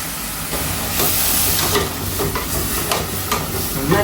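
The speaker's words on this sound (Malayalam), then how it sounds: "നന്നായിട്ട് ഇളക്കണം കേട്ടോ." Food being stirred in a frying pan over low heat, with a steady sizzling hiss and repeated scraping strokes of the spoon close by, no voices.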